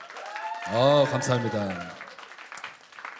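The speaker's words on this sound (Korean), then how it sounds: "치려면 크게 쳐야 돼, 박수를." A church congregation applauds during a Korean sermon on Acts 19, its dense clapping running throughout beneath a speaker's voice.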